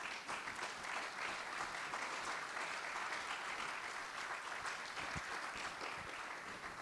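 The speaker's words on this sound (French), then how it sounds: "Est-ce qu'on peut acclamer cela, bien-aimé?" A church congregation applauds in a sustained, even wash of clapping that fills the room without pause, steady and moderately loud throughout.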